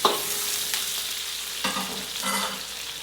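Chicken feet being sautéed and stirred in a pan for a Filipino chicken sinampalukan, a steady close sizzle with a few louder scraping stirs, no talk.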